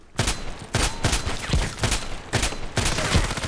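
Shotgun blasts in a first-person shooter game, about seven loud booming shots at a roughly even pace, each with a short decaying tail.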